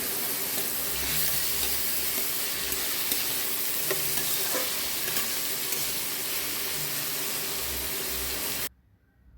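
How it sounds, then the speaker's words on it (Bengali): Tomatoes and green chillies frying with turmeric in a pan, a continuous bright sizzle with occasional stirring scrapes, steady and close, ending abruptly in near silence. "যতক্ষণ অবধি জলটা শুকিয়ে যাচ্ছে এইভাবে ভাজতে হবে"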